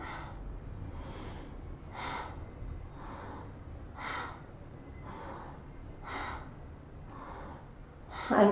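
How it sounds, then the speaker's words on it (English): Slow, deep breathing during a yoga stretch, with audible inhales and exhales alternating at a steady pace, each breath soft and close over a low background hiss. "Inhale, exhale, inhale,"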